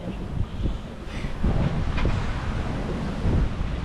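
Strong gusting wind at sea, up to 26 knots, in rain, buffets the microphone in rough gusts, with a rushing, roaring wash like open water beneath it.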